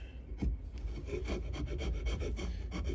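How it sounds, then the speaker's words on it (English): A blade scrapes wood off a framing hammer handle in repeated short strokes, close and steady, with a raspy rubbing texture and no talking. "See how I'm scraping that? Just barely taking a little bit off."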